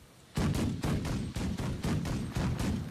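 Ship guns in the video game The Last Leviathan fire a rapid series of about ten loud, booming cannon shots in a steady rhythm, each one punchy and close, with no talk over them.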